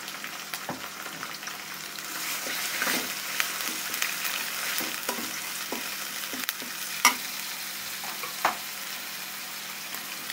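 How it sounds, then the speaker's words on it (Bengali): Ground small shrimp paste fries with vegetables in a pan, a steady soft sizzle broken by occasional stirring clinks and scrapes, with no talk. "এখন বেটে রাখা চিংড়ি মাছগুলো দিয়ে দিব।"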